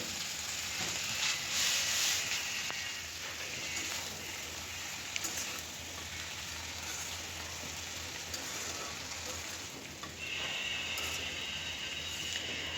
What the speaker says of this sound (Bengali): কড়াইতে তেল দিয়ে একটু রসুন ভেজে নিচ্ছি